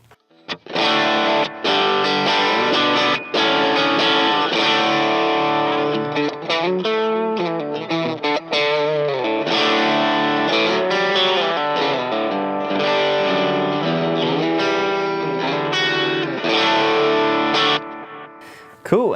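An electric guitar runs through an Xvive pedal that adds depth and short repeats, giving loud, sustained, slightly distorted chords and lines with a shimmering echo trailing each phrase, played steadily throughout before stopping abruptly.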